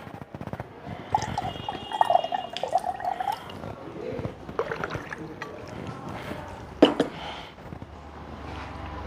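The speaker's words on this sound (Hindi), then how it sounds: "तो अभी हम और इसके अंदर ठंडा पानी मिलाएंगे।" Cold water poured into warm water and stirred in a vessel to prepare water for jal neti, with trickling, dripping and sloshing sounds that come and go over several seconds, close and fairly soft, with faint background voice.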